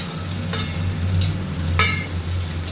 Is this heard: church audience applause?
no